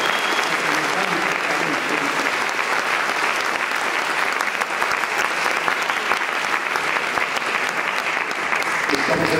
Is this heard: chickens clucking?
no